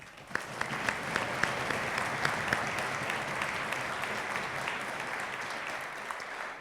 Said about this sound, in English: Let's please give some applause to our teachers.